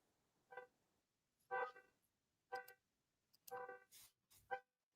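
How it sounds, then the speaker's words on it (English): A car's alarm chirps repeatedly as it is locked, five or six short horn-like toots spaced about a second apart, quite distant and faint against near silence. "They never can get in their fucking car without doing their fucking alarm."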